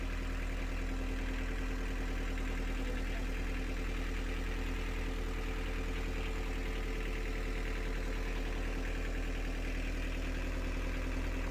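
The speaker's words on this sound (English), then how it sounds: "So we started the engine and we let it run for a while, and Carl keeps an eye on everything" A narrowboat's Isuzu 42 diesel engine runs at a steady idle, a continuous low rumble with a rhythmic knocking pulse, close and unchanging throughout.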